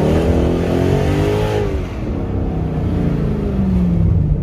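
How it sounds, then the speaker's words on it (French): A Mercedes E63 AMG V8 in Sport Plus mode revs up through its exhaust, the loud engine tone climbing then easing into a throaty, rumbling burble with no talk over it. "le bruit de l'échappement"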